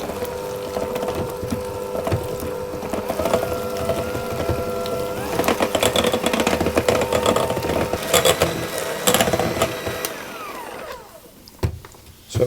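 An electric whisk whirs steadily through pastry batter for apricot pastries, a close continuous mechanical buzz with rattling against the bowl that cuts off near the end.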